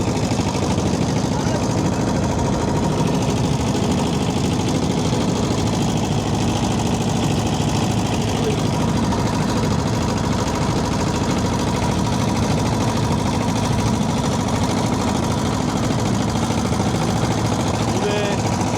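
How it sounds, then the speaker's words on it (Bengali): A boat engine runs steadily on a river in Barishal, Bangladesh, where large trawlers and launches travel, a continuous low mid-range drone with rumbling vibration that stays loud and close throughout. "এই নদীতে কত বড় বড় ট্রলার, লঞ্চ সব কিছু চলাচল করে"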